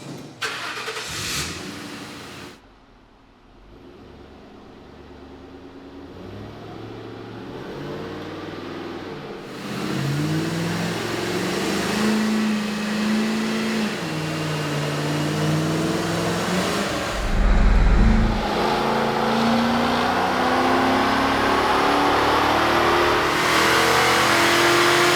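A 2000 Ford Mustang GT V8 with a Ford Racing intake manifold cranks and fires up, then idles with a deep steady rumble and rises into revving, loud and close with no talking.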